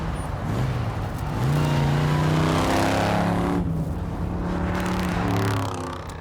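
An old Chevrolet with loud musical exhaust pipes revs and accelerates nearby, its engine note climbing through gears in a strong, continuous roar, in Texas.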